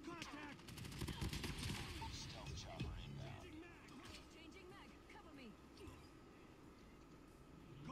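Sniper gunfire in a video game cracks in a quick cluster early on, then fades into busy game noise beneath a voice talking, all fairly faint.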